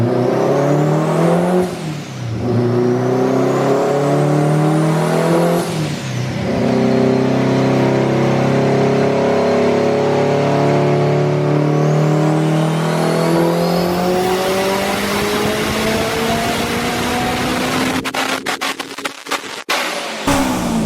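A Honda Civic engine revs hard against the rev limiter, climbing in repeated loud sweeps that stall and bounce at the cutoff, then holds a sustained high-pitched scream with crackling near the end.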